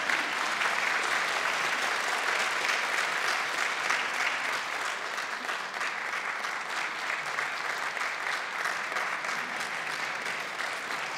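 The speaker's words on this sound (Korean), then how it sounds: "큰 박수 부탁드리겠습니다" Sustained audience applause at a professor's retirement ceremony during a plaque presentation, a dense, even wash of many hands clapping together, loud and continuous for the whole stretch with no speech on top.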